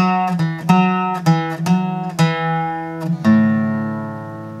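Requinto guitar plucking a slow ornament, alternating between two notes and then the open fifth string, each note ringing clearly with spaced attacks and a sustained final tone, played solo up close.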